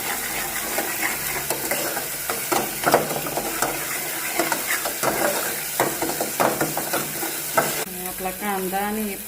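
Onion frying in oil with ginger-garlic paste for a khardā chicken or mutton dish, giving a loud, steady sizzle with constant scraping stirs against the pan, close up and without speech.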